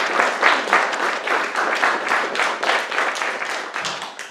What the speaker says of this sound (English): Let's give Jerry a round of applause.